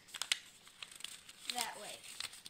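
Sheet of paper being folded into a paper airplane, with close, short crinkles and creasing rustles in quick bursts, then a louder crumpling crackle near the end.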